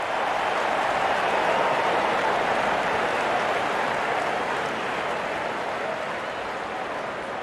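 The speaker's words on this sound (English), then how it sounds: "The crowd is enjoying every bit of this action." A cricket crowd roars in a steady, broad wash of cheering and applause that holds loud and even throughout, fading only slightly toward the end, with no voices standing out.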